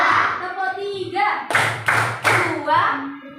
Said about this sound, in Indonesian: Tepuk tiga.